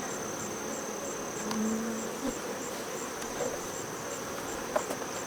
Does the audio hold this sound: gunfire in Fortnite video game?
no